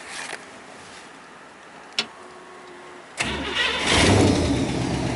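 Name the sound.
1929 Ford Model A roadster engine starting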